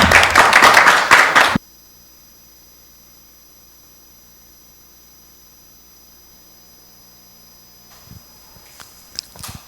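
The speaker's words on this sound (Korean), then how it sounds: "다들 좀 큰 박수로 환영해 주시기 바랍니다" Seminar audience at a biology study session in a government complex greets a speaker with a short burst of loud, dense applause that stops abruptly, leaving near silence and a few faint knocks.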